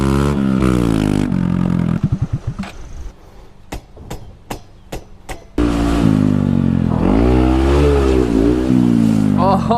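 A dirt bike engine revving hard with its exhaust come off, stuck in place, loud raw bursts at the start and end with a run of sharp clattering knocks between.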